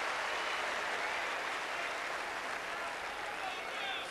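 A tennis crowd applauds steadily at a professional match, a dense, even wash of clapping that holds at a moderate level for the whole stretch.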